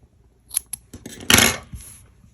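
Scissors trim the yarn ends of a mini tiered crochet tree, with a few crisp snips close up followed by one longer, louder rasping cut and light handling noise afterward.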